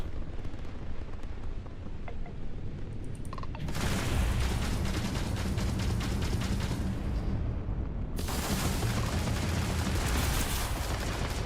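Ship turrets blasting in Starfield with a mod installed: a low rumbling hum, then a long loud stretch of rapid heavy firing, a short lull, and another sustained barrage, booming and continuous.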